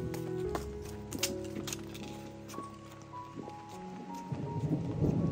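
Steady rain falls on surfaces while deep thunder rumbles through, with a dense hiss spread across the whole clip, moderately loud and without voices.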